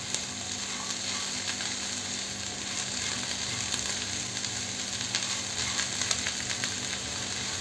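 Chickpea fried rice sizzles steadily in a hot pan, a dense continuous frying hiss with occasional faint clicks of stirring, close and fairly loud throughout.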